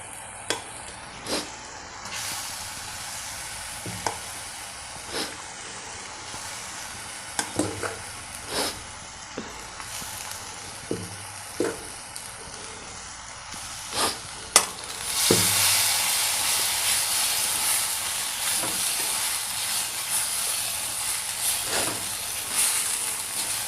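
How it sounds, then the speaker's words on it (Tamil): Cooked rice being turned into a pan of sizzling mint masala, a steady frying hiss with scattered scraping stir strokes that swells louder and fuller partway through, with no talking. "இது கூட இப்போ வடித்து இருக்கிற நம்ம சாதத்தை போட்டு கிளறணும்"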